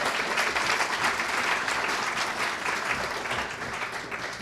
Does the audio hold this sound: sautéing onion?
no